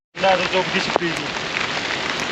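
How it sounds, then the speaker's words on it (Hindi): Rain mixed with snowfall on the Katora Lake trek in Pakistan, steady close patter on the microphone and wet gear, a sharp tap near the start and a brief voice fragment at the beginning. "बर्फ़बारी के साथ बारिश है, कैमरा हर चीज़ भीग चुकी है मेरी।"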